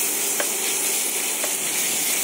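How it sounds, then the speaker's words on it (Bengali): Ginger-garlic paste fries in hot oil with chopped onion and cumin for a potato snack, a dense, loud, continuous sizzle with two faint clicks of a spoon. "দিয়ে দিচ্ছি আদা আর রসুন বাটা"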